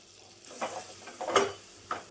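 Butter tempering with Kashmiri red chili powder and kasuri methi sizzles in a small pot for pav bhaji, with soft stirring bursts and a quiet, close crackle.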